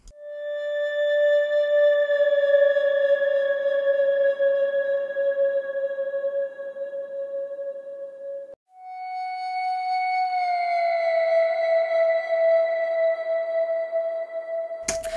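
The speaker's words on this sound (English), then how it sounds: "Little synth sounds that kind of are just peppered in there, like bends and things like that" Little synth tones in a modern classical track, two long sustained notes with clear overtones, each gliding in a slow pitch bend, played alone with a short gap between them.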